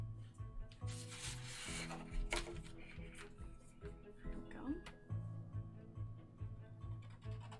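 An art marker colours a light base layer on paper with soft, close rubbing strokes, while a person talks faintly in the background.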